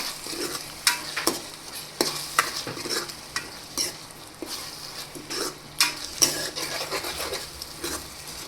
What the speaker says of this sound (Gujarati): પછી બધા મસાલાને સારી રીતે મિક્સ કરી લેશું.